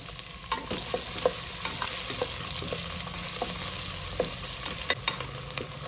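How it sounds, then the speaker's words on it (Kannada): Onions fry in a few spoonfuls of oil inside a pressure cooker for mutton head sambar: a steady crackling sizzle with scattered sharp clicks of a spoon stirring against the metal, close and continuous, with no voices. "ಒಂದು ಕುಕ್ಕರ್ಗೆ ಒಂದು ಮೂರಿಂದ ನಾಲ್ಕು ಸ್ಪೂನಷ್ಟು ಎಣ್ಣೆ ಈರುಳ್ಳಿ ಹಾಕೊಂಡು ಫ್ರೈ ಮಾಡ್ಕೊಳ್ಬೇಕು"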